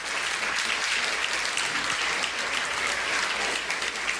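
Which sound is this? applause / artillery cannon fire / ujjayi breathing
applause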